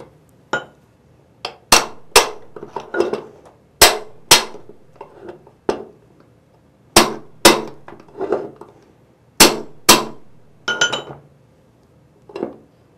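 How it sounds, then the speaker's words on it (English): A hammer taps a bushing on a 4L60E transmission reaction shaft, giving a string of sharp metallic clinks in irregular bursts of two or three, close and loud, with no talking. "tap it with the hammer to knock down any high spots on the bushing"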